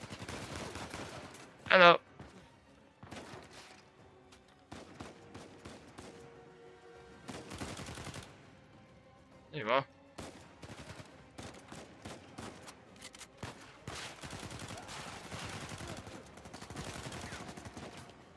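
Gunfire from an enemy in Uncharted 4 crackles in scattered bursts, with two sharp loud reports standing out early and midway among quieter shots and game noise, while a voice speaks briefly.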